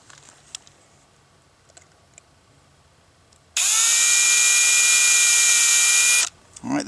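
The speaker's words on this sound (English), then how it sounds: "we need to drill the second pilot hole, making sure that this is nice and straight" A power drill bores a pilot hole into a plastic cup, a steady high-pitched whine lasting about three seconds after a quiet stretch with faint handling noises, then stopping with a short low thump.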